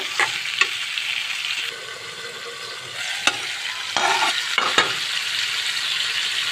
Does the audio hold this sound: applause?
no